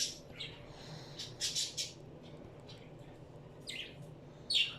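A baby bird named Pheonix chatters in short, high squawks and chirps, several bursts spaced irregularly, close and clear over a quiet room.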